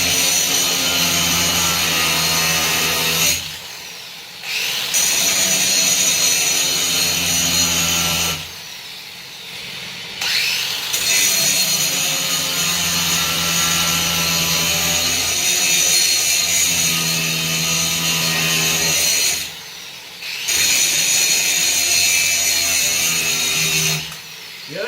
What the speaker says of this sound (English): Yeah, this grinder sucks. I gotta use my corded grinder.